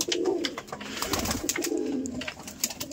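Pet pigeons coo steadily nearby, soft low throaty calls rolling on continuously while a few sharper bird sounds flicker over the top, with no one talking.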